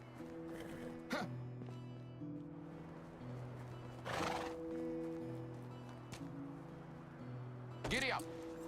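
A horse neighs repeatedly in the Medieval Dynasty video game, loud whinnies with wavering tonal calls, over a steady rhythmic clip-clop of hooves while a person talks nearby.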